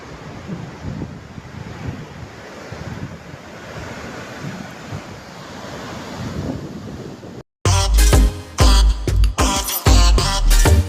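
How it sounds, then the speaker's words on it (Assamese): Steady broadband rush of a river flowing near a bridge by Jang waterfall, Tawang, like a river, for several seconds, then an abrupt cut to a louder, choppier sound. "চাইনাৰ পৰা অহা নদী এখন"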